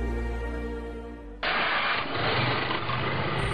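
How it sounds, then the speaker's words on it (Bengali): A car engine cranks and catches, switching abruptly from a low droning hum to a loud, steady broadband engine roar that holds to the end. "দাঁড়াও আমি গাড়িটা স্টার্ট দিই।"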